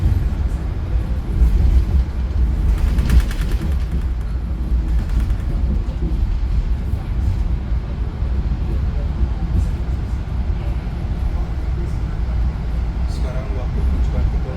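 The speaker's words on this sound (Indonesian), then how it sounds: "kereta api Turangga masuk stasiun Kutoarjo" Aboard the Turangga passenger train rolling into Kutoarjo station at night, a steady loud rumble of wheels and carriage noise continues throughout, with a few brief rattles and clanks.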